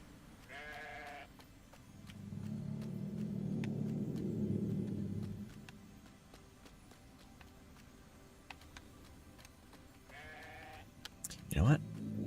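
Sheep in the video game Grow Home bleat twice, short, clear, and fairly close, over a low game rumble, with a person talking and a quick rising synthetic whoosh near the end.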